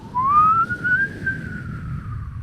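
A person whistles into a microphone to imitate a police siren, one rising and falling wailing tone held for about two seconds, close and fairly loud over low background rumble.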